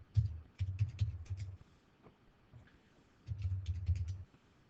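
Someone types a command on a computer keyboard during a network host setup, with quick clusters of crisp key clicks separated by pauses, close and fairly quiet.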